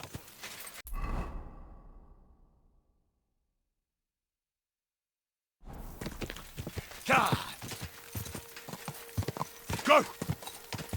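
Horse hooves clop at close range in Kingdom Come: Deliverance II, then silence for a few seconds, and the clopping returns alongside brief whinny-like cries and other rustling noises.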